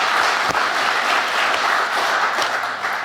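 An audience at a sports hall of fame induction ceremony applauds loudly and steadily, dense clapping filling the hall throughout.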